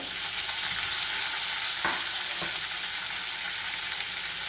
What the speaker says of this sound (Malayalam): ചൂടുള്ള വെളിച്ചെണ്ണയാണ്. അതിലേക്ക് സവാള ഇട്ടു, പിന്നെ ഒക്കെ ഇടാം. തക്കാളി ഇട്ടു,